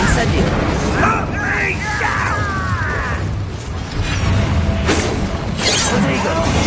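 Incendio fire spell cast in the Hogwarts Legacy video game, a dense, continuous whooshing burst with crackling and mechanical clatter, mixed with whistling tones and game effects throughout.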